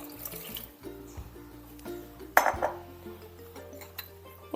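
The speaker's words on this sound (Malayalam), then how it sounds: "ഇനി ഇതിലേക്ക് 2 ഗ്ലാസ് വെള്ളം ഒഴിച്ചു കൊടുക്കുക." Water pours from a glass into a pressure cooker holding small pieces of jackfruit, an uneven splashing with faint clinks of metal and a louder slosh midway, with no talking.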